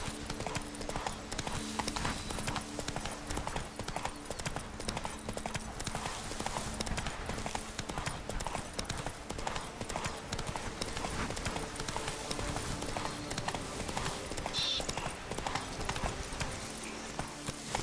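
Horse hooves clip-clopping steadily in the video game The Witcher 3: Wild Hunt (Blood and Wine), a continuous fast rhythmic gallop with a faint whinny, heard alone for the full length.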